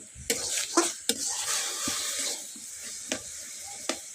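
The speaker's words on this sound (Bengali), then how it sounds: "এই যে আমার পুরো গ্রেট করা লাউ পুরো দিয়ে দিলাম। এখন আমি ভাজবো" Grated bottle gourd fries in a pan with a steady, close sizzle, broken by several sharp scrapes and clacks as it is stirred; no one speaks.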